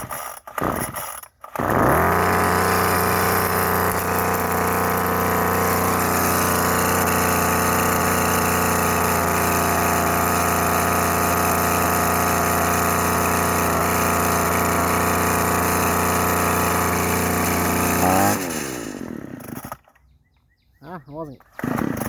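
Craftsman weed wacker two-stroke engine catches and runs steadily for about sixteen seconds with a buzzing harmonic drone, then cuts off and winds down to near silence.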